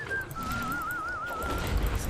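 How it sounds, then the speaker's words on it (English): A Guild Wars 2 character whistles a wavering, warbling tune that holds steadily for about two seconds over soft game ambience. "He's just whistling, prepping his bombs."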